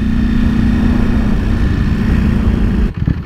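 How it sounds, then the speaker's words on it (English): A Ducati Panigale V4S sport motorcycle runs with a loud, steady mid-pitched engine drone that holds for about three seconds, then abruptly drops off and sputters as the engine falters. "Ooh, engine is dying."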